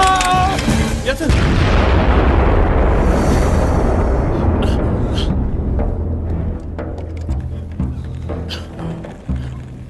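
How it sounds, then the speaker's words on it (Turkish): Bomb explosion in a Turkish TV film: a sharp, loud blast hits about a second in, then a long rolling rumble of debris slowly decays under faint scattered crackles. "Bomba! Bomba!"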